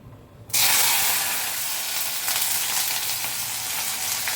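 Sliced okra hits reused white cooking oil, left over from frying luchi, and bursts into a loud, sudden sizzle that settles into steady, close frying hiss.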